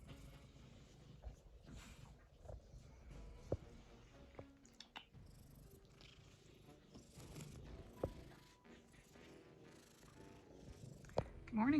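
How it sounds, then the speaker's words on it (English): Cat purring at home, a soft continuous low rumble held close and steady throughout, with faint clicks and small background noises. "Good kitty."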